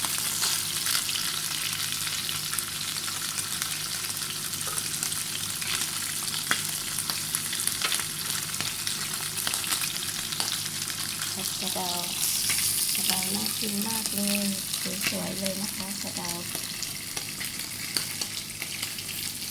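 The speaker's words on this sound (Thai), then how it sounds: "ทอดให้ด้คือเหลืองๆก็พอแล้ว นะคะ" Garlic, shallots and chillies fry in hot oil until golden, filling the whole stretch with a loud, constant close-up sizzle and crackle, with occasional stirring and some faint talk partway through.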